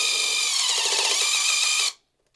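A power drill whirs steadily at close range for about two seconds while driving a screw into a sump pump stand, then stops abruptly, leaving near silence.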